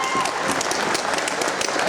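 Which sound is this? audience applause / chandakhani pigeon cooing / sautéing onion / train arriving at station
audience applause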